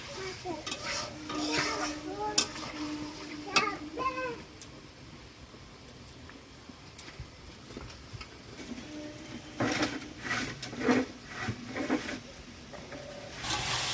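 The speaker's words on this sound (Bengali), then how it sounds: "দিদি এখন মাংস কষাচ্ছে" Chicken pieces being stir-fried in a pan for a home-style chicken curry, with intermittent scraping and stirring clatter and a soft sizzle, plus a few brief vocal sounds between bursts.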